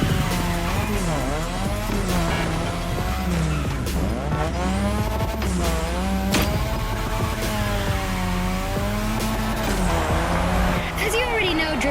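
In the video game The Crew Motorfest, a car drifts around a drift track, its engine revving up and down in repeated swells with tire squeals throughout, while a voice talks over the action.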